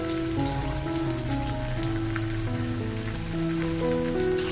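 Tomato paste sizzling as it is added to a pan of fried onion, ginger and garlic for chicken keema, a steady crackling hiss under faint background music, with no speech.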